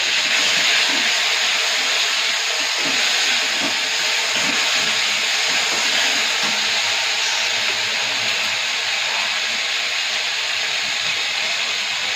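Garlic paste sizzling steadily in hot oil in a pan, a continuous loud hissing frying sound throughout with no talk.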